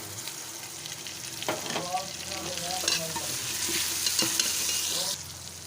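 Beef frying in a pan with turmeric and lemon juice, a close steady sizzle with stirring scrapes that swells midway, a brief voice audible.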